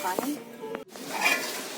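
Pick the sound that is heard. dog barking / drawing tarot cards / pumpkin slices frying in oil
pumpkin slices frying in oil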